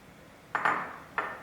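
A utensil clinks against a bowl while lamb mince kebab ingredients are mixed. Two bright metallic knocks ring out close and clear over a quiet background.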